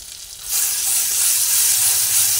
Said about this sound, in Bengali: এক এক করে তেলের মধ্যে পেস্টটা দিয়ে দিলাম।